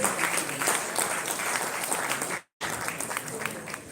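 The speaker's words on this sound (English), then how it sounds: "Please give her a round of applause." A round of applause from guests at an executive business dinner for an innovation challenge, steady clapping that cuts out briefly in the middle before resuming at similar strength.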